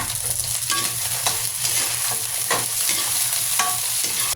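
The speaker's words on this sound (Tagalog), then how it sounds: "Sabay ko nang nilagay yung sibuyas at bawang, continuous lang ako sa paghalo" Carrots stir-fried with onion and garlic in oil make a steady close sizzle, punctuated by rhythmic scrapes and taps of a spatula stirring the vegetables.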